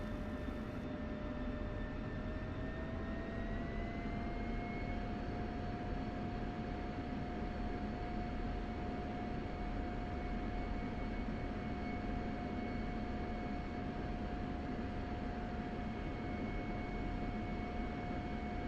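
Spitfire engine in the DCS flight simulator game, a constant loud rumbling drone with a steady tonal whine that climbs in pitch early on and then holds.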